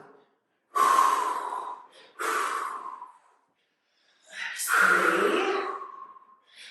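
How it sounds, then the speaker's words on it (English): Heavy, exaggerated exhalations during an abdominal core workout: three loud, breathy pushes of air, each lasting about a second or more, with short pauses between them, close and clear, and no talking. "I like to exaggerate the breathing. I hope the audio picks that up."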